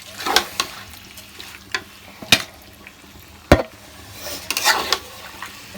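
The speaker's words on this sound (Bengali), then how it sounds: "আমি একটু মাকে টুকটাক নাড়াই চাড়াই হেল্প করে দিচ্ছি" Food stirred and fried in a pan: a soft sizzle underneath, punctuated by sharp, irregular scrapes and knocks of the spoon against the pan, close and fairly loud, with no talking.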